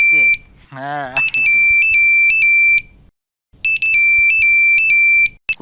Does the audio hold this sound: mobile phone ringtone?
yes